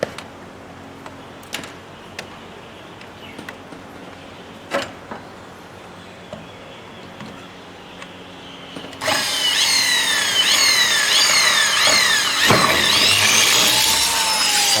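Power drill boring holes for fitting a window handle, a loud continuous whine beginning partway through after a stretch of quiet handling taps and knocks, close by.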